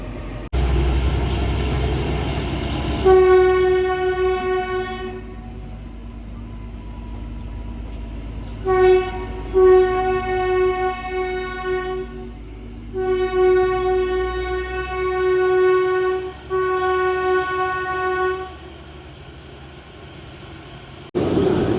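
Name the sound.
train horn before departure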